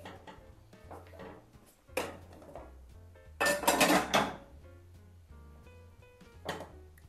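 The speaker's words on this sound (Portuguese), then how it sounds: "E vamos virar para dourar do outro lado." Cornstarch bread rolls are flipped in a frying pan, giving a few close clattering knocks and scrapes of utensil against pan, with a louder burst of handling in the middle over a low steady background hum.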